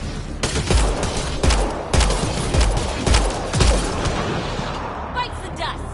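Gunfire in Mass Effect Andromeda aimed at a Ket device: a steady series of sharp, loud shots spaced roughly half a second to a second apart over a dense game-sound background, tailing into quieter electronic chirps at the end.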